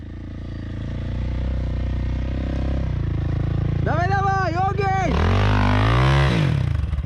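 A KTM 525 motorcycle engine roars loudly and steadily, then revs up sharply in repeated rising surges near the end, while someone shouts over it.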